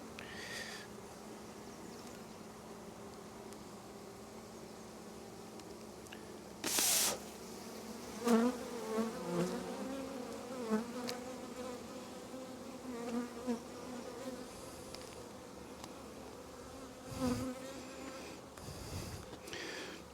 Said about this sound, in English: Oh wow, there's so many bees in here.